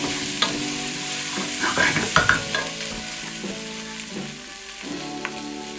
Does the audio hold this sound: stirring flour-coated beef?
yes